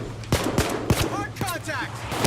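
Scattered gunshots in Payday 2 multiplayer, a few sharp shots spaced apart under game sounds and faint voices in the background.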